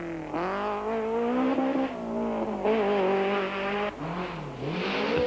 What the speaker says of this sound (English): Every second the Toyota scores on the Ford is worked for, with Serge often overextending both himself and the car